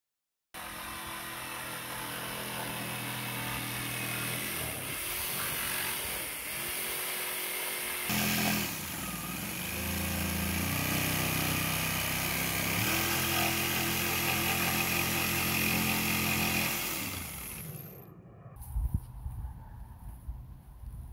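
A power saw runs on battery power from an Oscal PowerMax 3600 power station, making a loud, sustained whine that shifts in pitch as it bites through the cut, then stops abruptly near the end.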